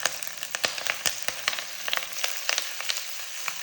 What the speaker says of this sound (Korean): 파향이 충분히 나도록 볶아줄게요